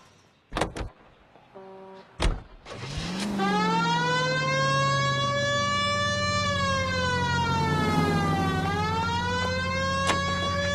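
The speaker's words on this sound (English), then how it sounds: "We have a siren." A loud electronic police car siren in the video game L.A. Noire winds up after a few clicks and thumps, then holds a steady wailing tone with a slight dip and rise, sustained to the end.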